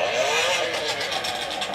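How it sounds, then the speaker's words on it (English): A car engine revs with a rough, crackling burble, exhaust pops fluttering through the steady drone; close and fairly loud, with no talking. "I want to hear the car with the popcorn."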